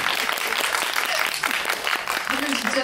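Audience applause during a film screening Q&A with the cast, a brief burst of clapping from a seated crowd mixed with voices talking over it.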